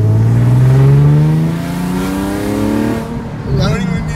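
A 2008 car's V6 engine revs up near the microphone, pitch climbing then settling back down over a few seconds, with a smooth rising growl.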